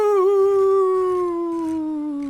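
Dog howling in the video game 7 Days to Die: one long, close, drawn-out howl that holds steady and then slowly sinks in pitch, with no talk over it.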